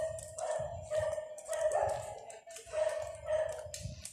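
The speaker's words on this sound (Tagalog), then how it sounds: "Kaso lang ang daming aso. Nasa loob ng bahay." Several dogs bark and yip indoors in a house, repeated bursts in uneven clusters, fairly close and steady over a continuous tonal hum, with no talk.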